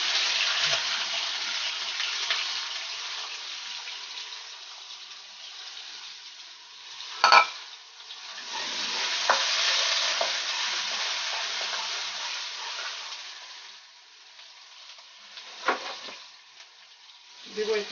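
Onions frying in about half a cup of oil in a pan for a creamy cheese pasta, a moderate continuous sizzle with a few sharp clatters of stirring, fairly close and steady throughout.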